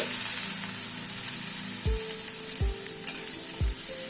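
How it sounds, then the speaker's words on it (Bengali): Boiled potatoes fry in a pan after the tempering has crackled, a loud continuous sizzle with a few low knocks from stirring and no talking. "আলুটাকে আগে একটুখানি ভেজে নিচ্ছি।"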